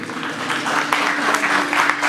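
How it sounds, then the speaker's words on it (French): An audience at an orphanage association's first-anniversary celebration applauds itself, a dense, steady wash of many hands clapping throughout, fairly loud and close, with faint crowd murmur underneath. "beaucoup d'applaudissements pour vous-même d'abord"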